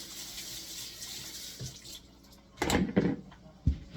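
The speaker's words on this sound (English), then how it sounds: "We're gonna use her to rinse it off." Water runs from a tap to rinse off a cleaned surface, a hissing stream at first, then splashing bursts as it hits something nearby.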